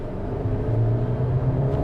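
The 1.5-litre turbo engine of a GAC Emzoom SUV hums and revs slightly in a low, close, steady drone with a faint rise in pitch, a little coarse, with no voices.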